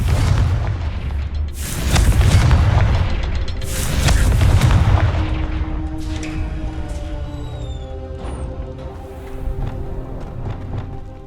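Confringo spell blasts in the Hogwarts Legacy video game, a pair of heavy booming explosions a couple of seconds apart, each rolling out into rumbling debris, then settling into quieter crackles and faint tonal game effects.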